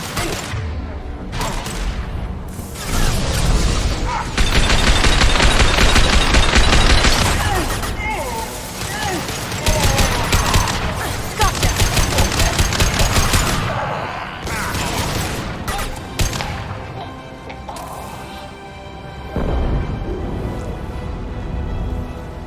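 Sustained video-game gunfire in a sci-fi galactic shooter: dense bursts and rapid volleys with booms, loud and continuous across the whole stretch, a voice speaking over the combat.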